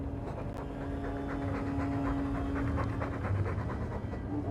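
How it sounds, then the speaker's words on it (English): A dog in the video game Dragon Age II pants steadily and close by, rapid rhythmic breaths running throughout over a low background hum. "All that noisy dog breath, day in, day out."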